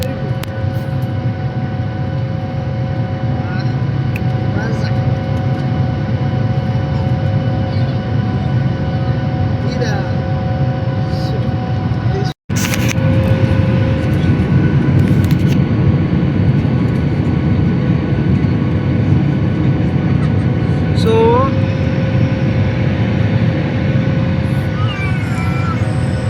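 Steady, loud engine roar inside an airplane cabin as it climbs after takeoff on a flight from Benin to Gabon, a continuous low hum that fills the clip with only a brief dropout midway.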